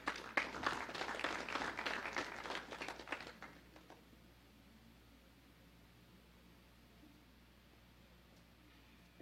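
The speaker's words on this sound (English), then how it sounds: "A round of applause for Janice." Applause from an audience at a national debate in Belize City, lasting about four seconds before fading into quiet room tone; a scattered, fairly distant and soft round of clapping.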